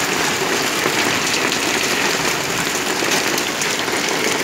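A dense, steady patter of hail striking surfaces, a constant hissing clatter with no pauses.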